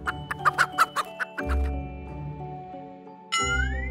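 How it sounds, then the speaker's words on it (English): A hen gives a run of about eight short, loud clucks. They are followed by sustained musical tones and a bright rising chime, with no voices. "H is for hen."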